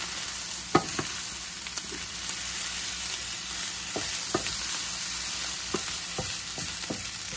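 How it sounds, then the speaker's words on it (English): Fried rice seasoned with soy sauce sizzling in a pan, browning on the heat: a steady close hiss of frying with occasional sharp scraping and stirring clicks, no talking. "I'm going to try and get some brown on that rice."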